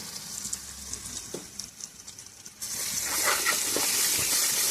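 Ginger garlic paste hits hot oil in a pan alongside cooked-down tomato, bursting into a loud, dense sizzle partway through after quieter faint crackles and clinks, then hissing steadily and close up.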